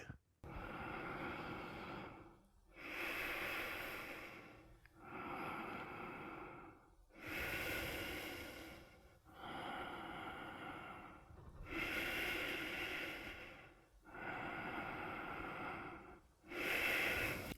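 Heavy rhythmic breathing during a wrist mobility exercise, long audible inhales and exhales alternating in a slow, even cycle about every two seconds, close and loud.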